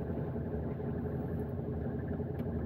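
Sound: car engine idling while warming up in winter

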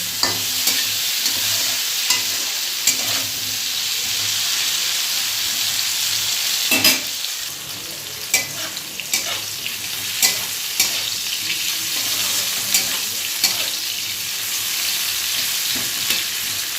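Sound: bitter gourd slices frying and being stirred in a pan

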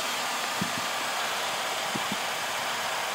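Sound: 2011 Nissan Altima 2.5S car engine running

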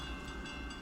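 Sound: CSX freight train passing

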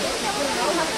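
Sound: Bamni waterfall, Purulia

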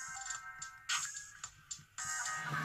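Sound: KINGYOU HD-007 headphones full-volume indicator tone

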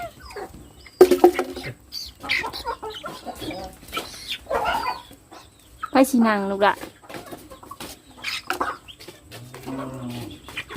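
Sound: chickens clucking

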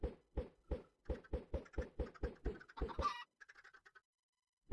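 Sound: chicken clucking in Minecraft video game

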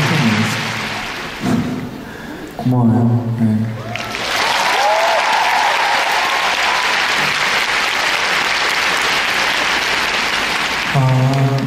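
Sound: audience applause at a concert

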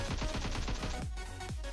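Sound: gunfire in the Call of Duty Mobile or PUBG Mobile video game

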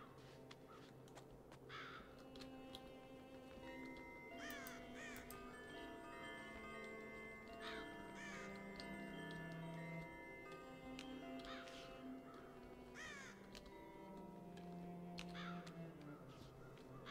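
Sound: crows cawing in the video game Child of Light

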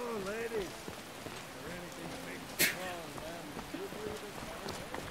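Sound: rain in the video game Skyrim

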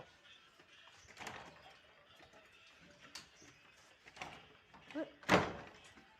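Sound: house door being closed

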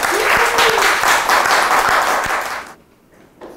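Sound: audience applause

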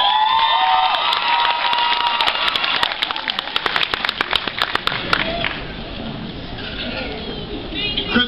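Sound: graduation audience applauding and cheering

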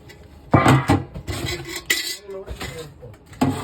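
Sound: plates and dishes being handled

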